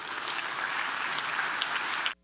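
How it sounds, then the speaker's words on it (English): An energy summit audience applauds in a steady, full round of clapping that stops abruptly at the end. "please give him a welcoming applause"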